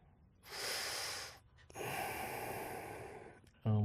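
Two long, breathy exhalations during a yoga forward fold, each about a second or more of airy rush close to the microphone, separated by a short pause, in a quiet room.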